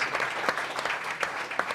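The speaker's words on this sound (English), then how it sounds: "And please give a nice big round of applause to Matt Plummer." An audience at a live comedy show breaks into warm, steady applause, a continuous wash of clapping with a few louder claps standing out.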